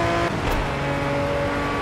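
A race car in Project Cars 2 drives with a steady engine drone and a faint whoosh partway through, loud and alone with no voices.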